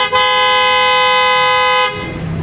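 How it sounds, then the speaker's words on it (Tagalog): One loud, sustained blast from aftermarket PIAA horns on an Isuzu D-Max, bright and buzzy, holding for about two seconds before cutting off to quieter background noise. "I-test natin kung gaano kalakas ang horn natin."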